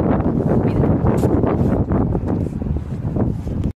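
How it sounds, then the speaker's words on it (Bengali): Strong wind with rain roars and buffets the microphone continuously, loud and gusty, easing slightly near the end, outdoors in Edinburgh, Scotland. "এত হাওয়া দিচ্ছে, ওপর থেকে বৃষ্টিও নেমে গেছে"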